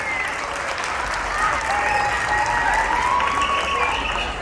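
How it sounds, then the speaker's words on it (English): Sustained applause from a crowd honoring an event team at a Salt March gathering, steady and full throughout with voices and cheers mixed into the clapping. "Can we give them a round of applause"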